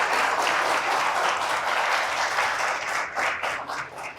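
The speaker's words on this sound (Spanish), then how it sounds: "Un aplauso, por favor." A room full of people claps together after a speaker at a talk in a library hall, a dense, loud wash of applause that thins out into scattered claps toward the end.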